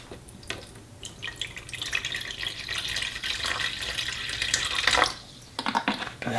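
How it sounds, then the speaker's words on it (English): Coconut water pours into a Blendtec blender jar, a close, continuous splashing trickle that swells and then stops abruptly, followed by a few faint knocks. "Go ahead and put in our coconut water."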